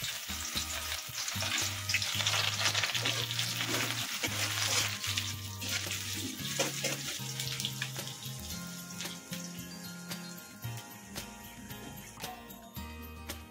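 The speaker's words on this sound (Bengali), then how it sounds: "পেঁয়াজটা আমার খুব সুন্দর করে ভেজে নেওয়া হয়ে গেছে।" Chopped onions frying in hot oil tempered with dried chilli and bay leaf, a steady close sizzle with stirring and clinking of a utensil running throughout, over a low hum.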